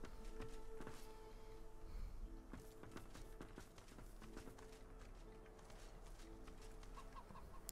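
A chicken clucking in the fantasy role-playing video game Divinity: Original Sin 2, soft fowl sounds amid busy game ambience with faint footsteps and a low steady hum.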